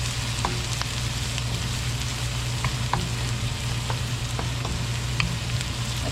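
Sliced onion and garlic sauté in a pan with a constant, close frying hiss, sprinkled with light scattered pops and stirring scrapes, a low hum sitting underneath throughout.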